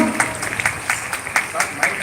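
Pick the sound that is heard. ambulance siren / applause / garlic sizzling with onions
applause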